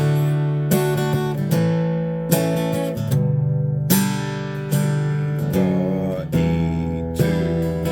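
The closing measures of a song ring out on a plucked acoustic string instrument, a steady run of bright strummed chords with sharp attacks and decaying sustain, close and alone without voices.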